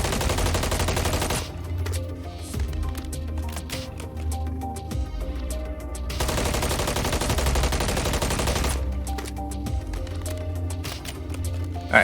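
MCW rifle gunfire in Call of Duty MW3, long bursts of rapid automatic shots separated by short pauses, close and steady throughout the clip.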